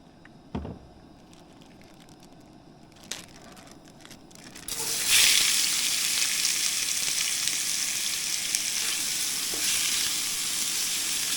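Shrimp sizzling and frying in a pan over turned-down heat at a truck camper campsite, a steady loud hiss starting a few seconds in after quieter clatter, continuing evenly to the end with no talk.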